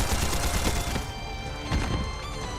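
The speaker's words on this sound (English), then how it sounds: "Never thought I'd be the one to fire this old antique." A shot from an old antique gun in the video game Trails Beyond the Horizon: loud close bangs with a heavy low thump over a dense game backdrop, two distinct blasts about a second apart.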